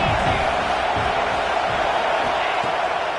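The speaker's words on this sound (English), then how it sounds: "This crowd knows when to bring it." A football stadium crowd in a video game roars and cheers loudly and steadily throughout, a dense wall of voices with scattered whoops rising out of it.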